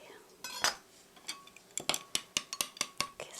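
A utensil clinks and taps against a bowl while beaten eggs with chopped green onion are stirred, a few scattered knocks followed by a quicker run of sharp metallic ticks, close by.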